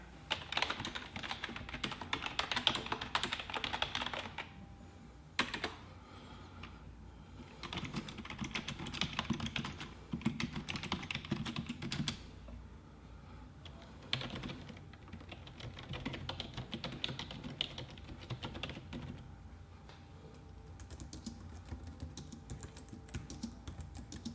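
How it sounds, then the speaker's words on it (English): Typing runs continuously on Logitech wireless combo keyboards such as the MK470, MK315 and MK270, a dense patter of soft key clicks at low volume with occasional brief pauses and no talking. "Next we have typing tests back to back."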